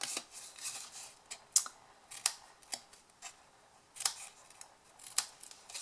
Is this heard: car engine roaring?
no